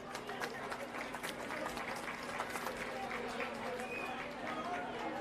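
A crowd at the opening of a senior citizens' home in Delhi gives sustained, dense applause to welcome the Chief Minister, with voices and crowd chatter mixed throughout.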